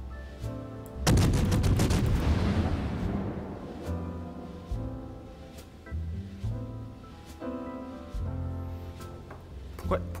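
Heavy naval guns boom in a warship battle game near the Yugumo destroyer, a loud blast at the start with a long rumbling decay, followed by fainter repeated thuds and a musical score over a speaking voice.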